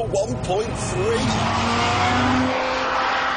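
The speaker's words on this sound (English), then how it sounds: "it's a Wankel rotary engine" A Mazda RX-8 with a 1.3-litre Wankel rotary engine revs and drives steadily, a smooth, high-pitched motor note rising in pitch early on, with a voice talking over it.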